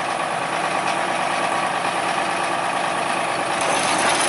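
Cleveland JS36 trencher engine, parked for a couple of years, running steadily as the digging wheel turns and the machine crawls slowly, a continuous loud broadband rumble with no pauses.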